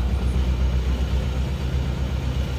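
An Isuzu Panther diesel engine, just back from workshop repairs and warmed to operating temperature, idles at a slightly high RPM, giving a steady, close, low rumbling throb with no talk over it.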